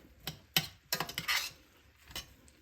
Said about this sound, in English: Mix it all around, making sure everybody gets some of that